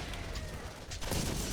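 Gatling gun fire in the video game Borderlands, a dense continuous burst of rapid shots that swells louder in the second half, heard without speech.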